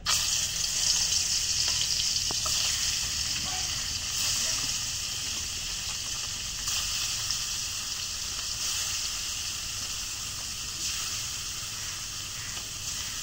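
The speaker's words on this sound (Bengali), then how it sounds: "এখন কড়াইত মাছ দিয়ে দিই।" Small river fish fry in hot oil in a wok, giving a steady, loud, continuous sizzle throughout with faint background voices.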